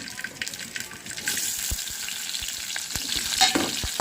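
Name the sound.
thinly sliced onions frying in hot oil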